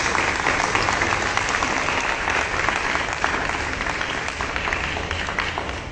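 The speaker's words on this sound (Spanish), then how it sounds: "le damos un fuerte aplauso a nuestro invitado especial" An audience at an event at the Concha Acústica gives sustained, dense applause to welcome a special guest. The clapping is loud and continuous for the whole stretch, with faint voices mixed in.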